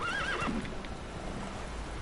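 A short, high neigh from a horse in The Witcher 3 opens the clip, then hooves drum on in a steady gallop, close and clear with no talking.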